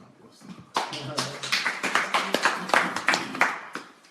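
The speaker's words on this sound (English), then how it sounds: "Let's give a round of applause" A small audience at a talk gives a brief round of applause: distinct individual claps building quickly into a short ragged burst, close and moderately loud, with some voice mixed underneath.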